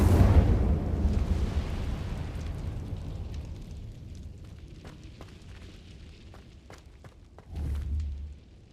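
Incendio fire spell cast in Hogwarts Legacy: a loud, booming whoosh of flame bursts up, then fades into crackling and scattered clicks, and a second heavy burst surges near the end.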